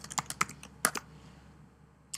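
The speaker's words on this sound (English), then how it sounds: "then I'll type my message." Quick bursts of keystrokes on a computer keyboard as a message is typed, light clicky taps in an uneven rhythm, a short pause, then a few more keys, close and alone in a quiet room.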